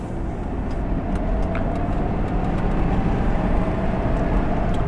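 A 1981 Mercedes-Benz 380SL drives along with a steady, close engine and road rumble inside the cabin, smooth and continuous, with no talking.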